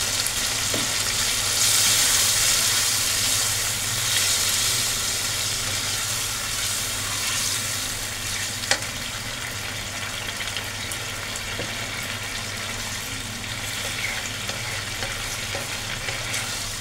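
Chilli chicken gravy simmering and bubbling in a pan after water is poured in, a steady close sizzle with soft stirring scrapes throughout, no voices.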